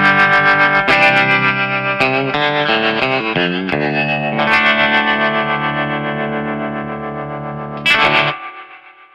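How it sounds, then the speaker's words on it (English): An electric guitar played through a True Spring Reverb pedal with tremolo rings out in sustained distorted chords and short melodic runs, pulsing rhythmically, with a splashy spring-reverb crash near the end before the sound decays. "I do have one tremolo set up that I really love, and it sounds like this."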